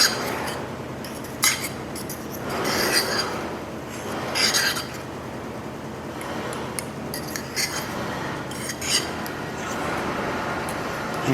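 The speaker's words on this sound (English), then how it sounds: "I am going to stir all of these ingredients together" Tartar sauce ingredients stirred together in a bowl, soft repeated clinks and scrapes of a utensil against the dish in uneven bursts, close and moderately loud.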